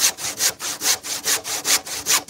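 A hand saw cuts through wood in steady back-and-forth strokes, about nine rasping passes, close and clear with no talking.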